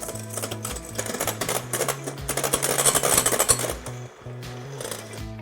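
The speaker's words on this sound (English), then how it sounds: "Whisk the egg whites with the mixer until they have nice stiff peaks." An electric mixer whisks egg whites to stiff peaks, a close, busy buzzing whir with rapid rattling beats against the bowl that briefly drops out near the end.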